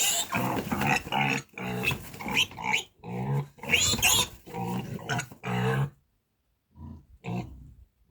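Close, rough grunting and snorting from recently weaned piglets comes in short bursts, breaking into brief silences before a final few grunts.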